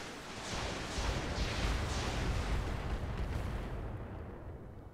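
Mech weapons firing together in the RogueTech video game: a heavy rumbling volley of overlapping booms and blasts, loud and sustained for a few seconds before tailing off.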